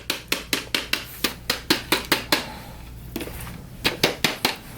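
The plastic dust bin of an LG Cordzero cordless stick vacuum is tapped hard to empty it. Sharp, evenly spaced knocks come in a quick run, then a short pause with faint rustling, then a few more knocks close by.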